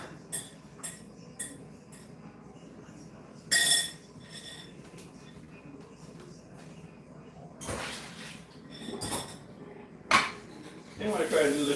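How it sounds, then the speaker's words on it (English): Dishes, pots and pans clattering during washing, scattered clinks and sharp knocks of plates and cutlery with quiet gaps between, some bursts louder and closer. "I try to stay ahead of the dishes as I'm doing it"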